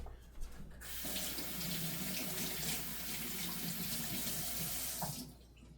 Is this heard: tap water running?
yes